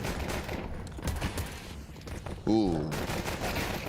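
Gunfire from a professional Counter-Strike match at a PGL tournament, with several sharp shots popping under excited commentator voices in a busy broadcast mix.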